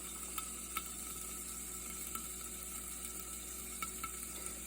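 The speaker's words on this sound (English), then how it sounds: "And then I'm gonna let it just simmer for about an hour." A stew of squirrel and hen of the woods mushrooms, seasoned with salt and pepper, simmers in a pot, giving a faint, steady sizzle with a few soft ticks and pops and no voices.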